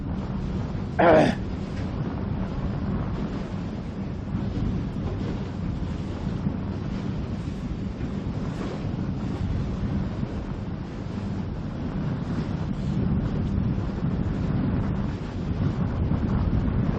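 Strong wind roars steadily over open water during a sailing championship race, a constant loud broadband rush with low buffeting, and one brief sharp knock near the start.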